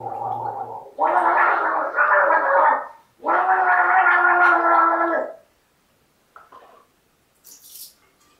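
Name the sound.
gargling liquid while singing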